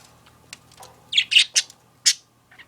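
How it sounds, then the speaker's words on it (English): Budgies chirp in several short, bright bursts, a cluster of sharp high tweets close to the mic with brief pauses between, ending on a fainter chirp. "Nice, beautiful chirping and singing, Dr. Chi."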